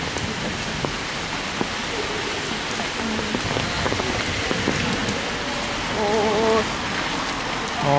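Heavy rain pours onto an umbrella on a street in Santa Cruz de Tenerife, a dense, steady patter close overhead with scattered heavier drops and a brief faint tone near the end.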